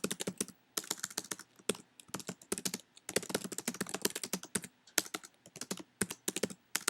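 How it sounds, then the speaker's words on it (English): Rapid typing on a computer keyboard, crisp close key clicks in uneven bursts with brief pauses between words, heard alone without talk. "then I'm going to click on it and start typing"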